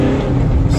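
A Land Rover Defender, fitted with a replacement clutch and an Ashcroft output shaft, pulls out onto a main road with a close, steady engine rumble and a rising note under way, with no speech.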